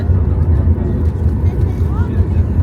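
A jet airliner rolls down the runway just after touchdown, its engines giving a loud, steady low rumble that fills the cabin, with someone talking over the noise.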